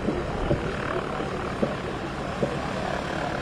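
A bush plane in a short-takeoff-and-landing contest at Valdez runs its propeller engine in a steady, loud droning buzz throughout, with a few faint knocks over the constant noise.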